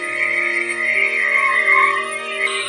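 Frogs croak steadily in a loud continuous chorus, used as an eerie sound effect in a ghost story.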